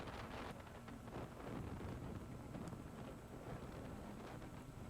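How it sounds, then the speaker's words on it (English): Strong wind gusts roar across a snowy mountain slope at Mammoth Mountain during snowboarding, a dense, continuous buffeting rush over the microphone with no voices. "God, that wind could just blow him right away."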